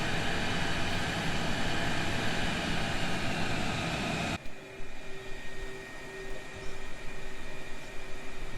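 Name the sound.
F-35 jet taxiing on the ground, from a flight sim video game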